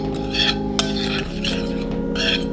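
A spoon stirs salt into a bowl of ranch mixture, giving soft continuous scraping with a few faint clinks against the dish, up close and without any speech.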